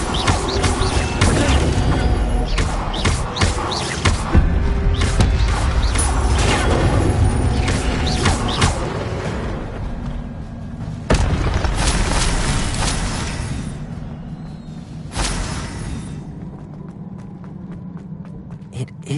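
Incendio fire spell cast in Hogwarts Legacy, a dense roaring burst of flame and crashing impacts that stays loud for several seconds, then fades with a couple of further blasts.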